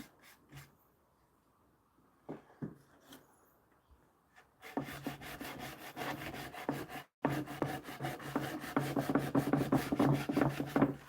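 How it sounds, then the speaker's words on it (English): Sandpaper is rubbed by hand across a wooden cabinet door, starting with a few scattered scrapes, then settling into steady rapid back-and-forth strokes, briefly broken by a short pause. "And you come back and you can hand sand it."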